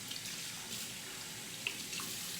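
Water runs steadily from a faucet during handwashing, a continuous hiss with a few faint splashes and no talk.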